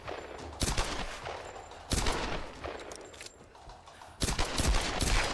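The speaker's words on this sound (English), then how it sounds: "That was a lot of shooting. A lot of shooting in Shanty Town." Gunfire in Shanty Town in the Tomb Raider Definitive Edition video game comes as three loud bursts of rapid shots separated by short quieter gaps.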